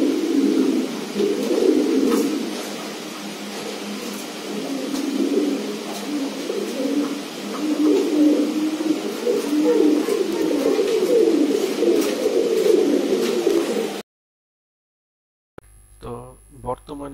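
Giribaz high-flyer pigeons coo steadily and rhythmically up close for about fourteen seconds, a continuous low throaty murmur, then a pause and a brief voice speaking.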